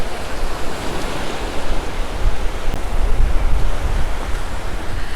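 Waves wash onto the beach at Playa de Muro, Mallorca, in a steady loud surf roar mixed with wind buffeting the microphone, with swells rising and falling throughout.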